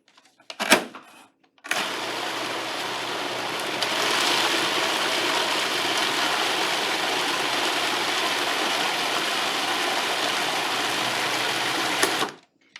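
Blender buzzing mango salsa ingredients with a drizzle of olive oil, a loud, steady whirring drone that runs about ten seconds after a brief clack and stops abruptly.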